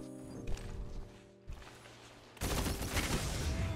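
Automatic weapon fire in the shooter game Destiny 2: a loud sustained burst of rapid gunfire erupts partway through, following quieter mechanical clicks and game ambience.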